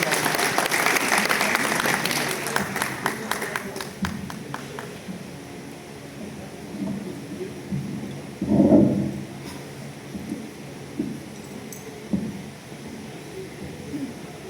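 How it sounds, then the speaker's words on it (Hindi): Audience applause at a Hindi poetry gathering, a loud burst of clapping at the start that thins out, followed by quieter crowd noise and a voice speaking. "आप लोग जोरदार तालियां बजाइए"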